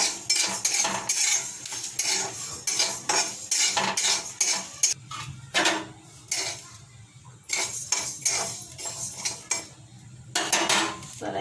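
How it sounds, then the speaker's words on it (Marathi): Coriander seeds dry-roasting in a pan, stirred with a metal utensil that scrapes and clinks in repeated bursts, with a faint rustle of seeds between strokes and no talking. "धणे भाजायचे, जास्त भाजायचे नाहीये, असे हलकेसे गरम करून घ्यायचे आपल्याला"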